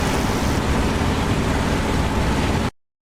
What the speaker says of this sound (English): I think the engine will fail before I get back.